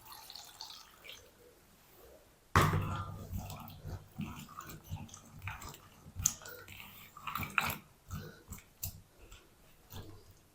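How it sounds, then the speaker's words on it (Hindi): Potatoes and peas are washed by hand in a bowl of water, giving close splashing, sloshing and dripping with scattered knocks throughout after a sudden start. "पानी शामिल करके 2 पानी से अच्छी तरह हम इनको वॉश कर लेंगे।"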